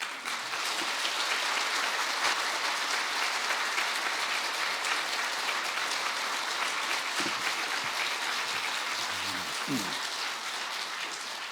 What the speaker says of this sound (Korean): 우리가 큰 박수로 강사님 맞이하겠습니다